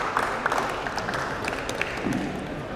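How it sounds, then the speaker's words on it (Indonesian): An audience at an Indonesian seminar gives a round of applause, a steady patter of many hands clapping at moderate loudness without talk. "Jadi boleh teman-teman kita kasih tepuk tangan dulu buat Pak Satyo."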